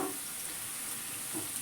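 Chillies and onion sizzle in a pan for Kathiyawadi olo, a steady close hiss of frying with faint stirring, no voices.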